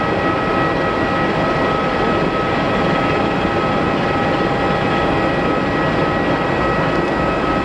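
A plane lands at Geneva Airport, heard as a steady, loud broadband roar that holds evenly throughout with no voices.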